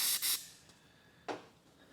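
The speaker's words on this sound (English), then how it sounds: "I'm going to spray some carburetor spray on my microfiber" Carburetor cleaner sprayed from a can onto a microfiber cloth while cleaning a Ford 5.4L 3V engine, giving two quick hissing bursts, a pause, then one more short spritz, close and isolated.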